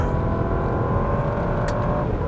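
Big supercharged 5.0-litre V8 of a 2020 Range Rover Autobiography long-wheelbase idling steadily and near while its 8-speed automatic is run through the gears, a low even drone with a brief higher whine partway through.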